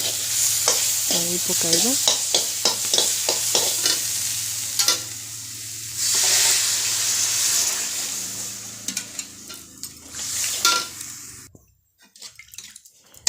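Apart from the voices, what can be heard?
stirring potatoes and masala frying in a pan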